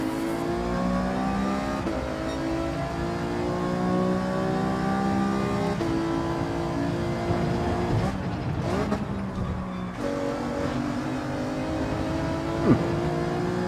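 Alfa Romeo 155 race car driven in Gran Turismo 7, its engine note rising and falling through repeated gear changes as it accelerates, steady and fairly loud with no talk.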